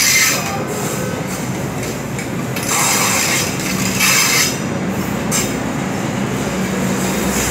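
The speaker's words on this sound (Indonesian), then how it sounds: "Jalur 4 dari arah timur dipersiapkan masuk komuter lain tujuan akhir stasiun Jakarta Kota." A Jakarta commuter train arriving at a station platform, its cars rumbling and wheels squealing loudly and close for several seconds, with a hiss of brakes and station noise around it.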